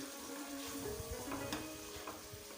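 Spice masala for chicken kachnar frying in a pan, a soft steady sizzle with a few light stirring scrapes, close but quiet.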